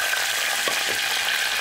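Orange juice hits hot garlic-flavoured oil in a pan, giving a steady, close hiss of sizzling that holds evenly for under two seconds with no voices.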